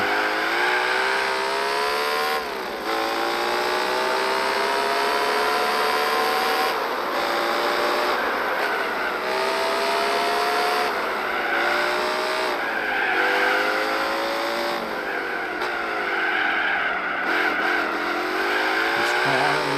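A race car in Gran Turismo 4 drives hard, its loud engine whining through repeated upshifts and revs, with tyre squeal along the way.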